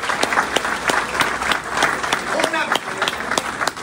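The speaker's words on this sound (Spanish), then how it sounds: "¡Un aplauso para ellos!" A church audience claps for an elderly couple, both 88, who are celebrating six years of marriage. Many hands make a dense, lively round of applause close by, with some voices mixed in.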